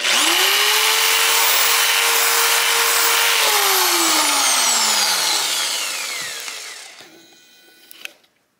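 A power drill bores a hole in a plastic traffic cone, with loud, steady whining and grinding close by for several seconds, then the motor winds down and spins to a stop, followed by a few small clatters.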